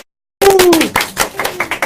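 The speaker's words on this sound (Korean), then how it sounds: "여기 계신 분들 박수 쳐주세요." A studio audience at a live political talk broadcast breaks into clapping after a moment of silence. Dense claps first, then thinner scattered ones, with voices calling out over them.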